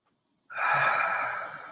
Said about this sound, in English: so take a couple deep breaths.